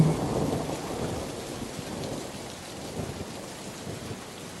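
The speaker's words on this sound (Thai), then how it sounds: "จู่ๆฝนลงฤดูก็เทกระนำลงมาอย่างบ้าคลั่ง" Heavy rain pours down in a dense roar over rice fields, with a deep rumble of thunder fading at the start.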